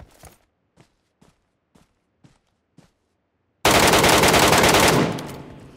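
A handful of faint, spaced footsteps, then a sudden loud burst of sustained automatic gunfire in the shooter game PUBG Metro Royale, ringing briefly before fading out.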